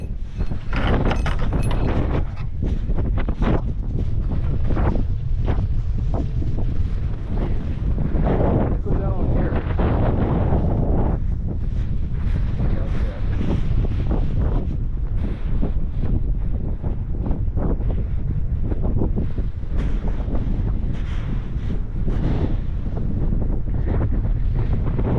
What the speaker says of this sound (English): The wind is getting bad.